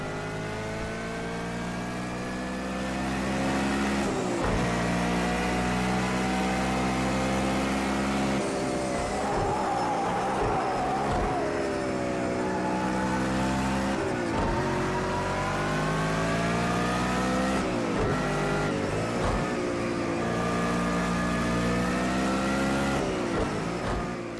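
Race car engine in Project CARS 2 revving loudly and continuously, pitch rising and falling through gear changes and braking, with no talk over it.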